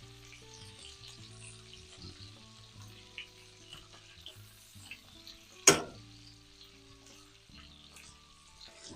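Brussels sprouts fry in a skillet with a soft, steady sizzle, joined by a sharp clatter near the middle and a few light stirring taps, with no voices.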